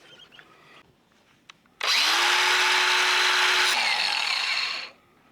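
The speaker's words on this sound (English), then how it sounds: "I changed this to a grinding wheel." An angle grinder fitted with a grinding wheel spins up abruptly, screams loudly and steadily for about three seconds, then winds down; quiet handling noises come before it.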